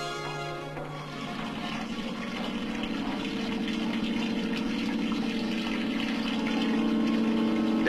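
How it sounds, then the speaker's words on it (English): Water surges continuously into a submarine escape tower lock in a 1962 training facility, a dense steady gushing and pumping roar that grows slightly louder toward the end. "Inside, he turns a wheel to flood the lock."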